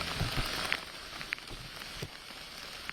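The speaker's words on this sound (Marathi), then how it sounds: "मुंबईसह उपनगरात या ठिकाणी आपण पाहतोय जोरदार पाऊस होतोय" Heavy monsoon rain falls around the Ghatkopar station area in Mumbai, a steady hiss of rain on surfaces, with scattered louder drops and splashes close by.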